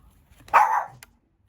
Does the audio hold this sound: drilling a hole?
no